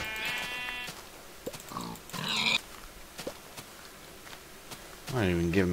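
Minecraft pigs give a few short oinks and grunts, one at the start, a brief one in the middle and a louder one at the end, close by, with no talking.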